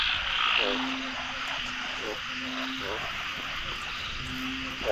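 Narrow-mouthed frogs (ueng nam) croak in a rice-field setting at night, a rhythmic series of short, nasal bleats repeating about every second over a steady hiss of insects.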